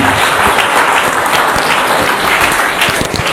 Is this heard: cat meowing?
no